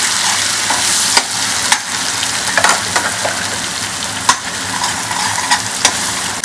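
Masala paste for a dhaba-style paneer curry frying loudly in a pan, a dense continuous sizzle broken by a handful of sharp spoon scrapes and clinks as it is stirred, close by.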